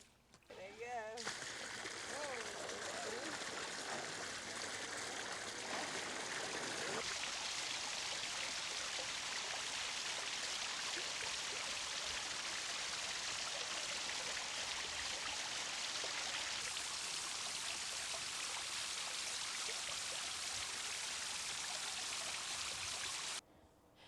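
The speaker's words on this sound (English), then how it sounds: "we put the T on it like this so that we have 2 places where the water comes out of the pump" Water from a pond pump pouring out through a hose fitted with a T splitter into a garden pond, a steady close splashing rush that runs unbroken for over twenty seconds before stopping abruptly.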